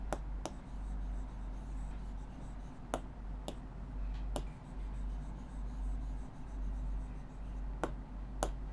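A pen or marker writes numbers by hand on a quiet surface, giving sparse, sharp taps and strokes at irregular intervals over a low background hum.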